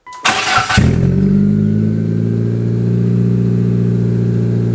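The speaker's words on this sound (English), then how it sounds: "just in case you were wondering what this thing sounds like with no exhaust on it" A Mitsubishi Galant with no exhaust fitted fires up with a sharp burst, then settles into a loud, steady, raspy idle that drones on close by without any talk.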